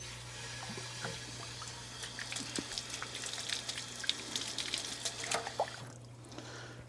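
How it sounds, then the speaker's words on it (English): Water hoses down an old model train locomotive being cleaned, a continuous splashing rinse with scattered drips and spatters under a steady low hum, easing off near the end. "Now, let's get that rinsed off."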